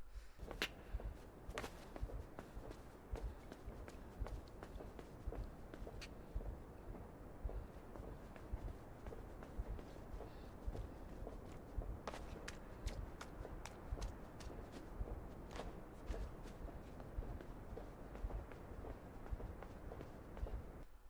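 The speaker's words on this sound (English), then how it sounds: "Upon climbing out, the sound of footsteps like marching can be heard" Rhythmic footsteps like a marching column in the game INSIDE, faint and distant, with repeated soft thuds and occasional sharper clacks over a low rumbling background, no talk.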